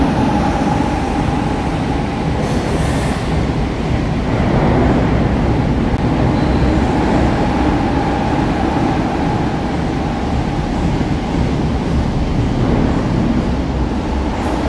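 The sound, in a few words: high-speed train passing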